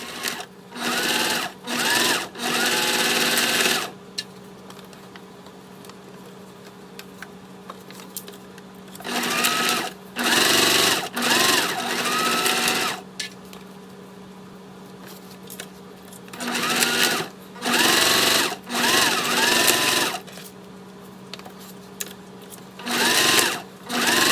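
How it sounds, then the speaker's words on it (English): A sewing machine runs in repeated bursts, top stitching the folded fabric edges of a ladies' wallet's card slots, its loud close whirring motor stopping and starting with short quiet pauses between runs. "now I'm going to go ahead and take this to my machine and top stitch all of them"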